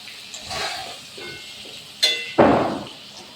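Water hits frying potatoes in hot oil for mutton biryani, a sudden loud hissing burst that decays quickly, preceded by a few clinks and stirring sounds in the pan.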